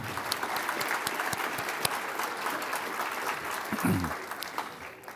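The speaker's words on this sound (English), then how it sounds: "we should have a short applause for those who invited you to this breakfast this morning" A crowd applauds steadily throughout at a fundraising breakfast, dense clapping at a moderate distance with no voices standing out.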